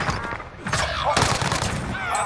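Bursts of rapid gunfire crackle in a Warzone Pacific match, loud and dense across a couple of seconds, mixed with players' excited voices.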